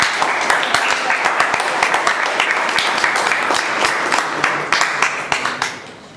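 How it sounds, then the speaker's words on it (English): Sustained audience applause fills a club meeting room, a dense patter of many hands clapping steadily for about six seconds before tapering off at the end. "can we give the Sergeant at Arms a big round of applause?"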